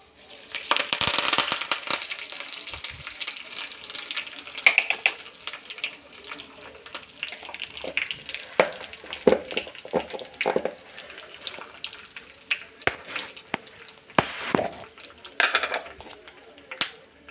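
Mustard seeds, cumin and curry leaves crackle and pop in hot tempering oil with turmeric for a tamarind chutney, in irregular sharp bursts and a steady sizzling hiss throughout.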